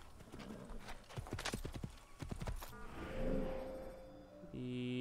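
Rapid clip-clop of horse hooves on a hard surface in Assassin's Creed, steady and close, with a brief whinny and some game tones near the end.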